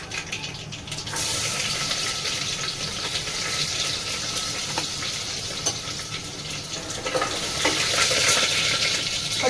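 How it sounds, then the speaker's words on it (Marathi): Garlic dropped into mustard seeds and cumin frying in hot oil in a pan, a loud continuous hissing sizzle that swells after a brief quieter start, with crackling bursts near the end. "त्यामध्ये लसण टाकूया आता."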